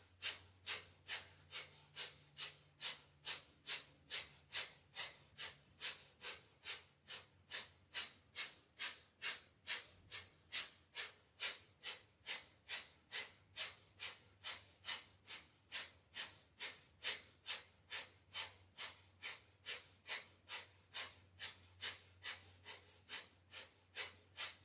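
Rapid, rhythmic forceful breathing during a yoga practice, sharp exhalations from the belly pumping steadily about twice per second for the whole stretch, close and fairly loud with no talking over it.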